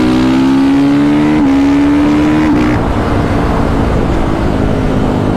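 A tuned supermoto motorcycle revs hard and accelerates up through the gears, its rising engine note snapping cleanly through quickshifted upshifts, loud and close with no voices.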